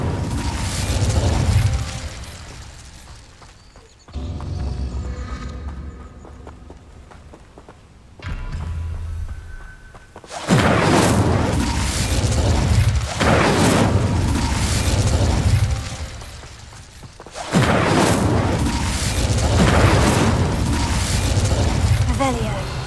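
Spell-casting effects from the Hogwarts Legacy video game, with loud fiery booms and bursts of the Incendio fire spell arriving in several heavy waves separated by quieter stretches, mixed with game sounds.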